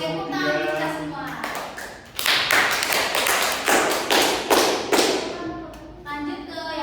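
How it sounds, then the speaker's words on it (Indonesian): A classroom of students claps in a microteaching lesson, starting after a teacher's voice, with bright, closely packed handclaps and a few thumps, and speech resuming at the end. "Oke, tepuk tangan kita semua."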